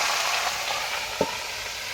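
Chopped bottle gourd fries in a pan with chili and panch phoron over a fire, giving a steady close hiss of sizzling and a single brief clink partway through.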